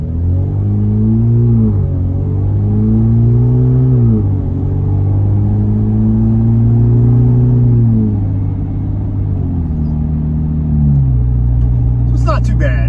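A Jeep fitted with a Flowmaster high-clearance exhaust drives along, its deep, smooth exhaust drone steady and loud, stepping up and down in pitch several times as the engine revs shift.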